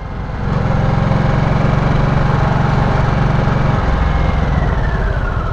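A Harley-Davidson Nightster 975 motorcycle engine runs loud and close, holding a steady rumbling drone that climbs slightly in pitch before easing off near the end, with no talking.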